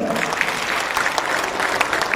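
A crowd at a political rally claps steadily in continuous applause, dense and fairly loud throughout, with no pauses.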